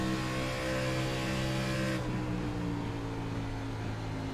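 An Xfinity Series race car engine runs through the tunnel turn at Pocono, Long Pond, as a loud, steady, close droning roar. The pitch and tone shift slightly midway, and no voices are heard.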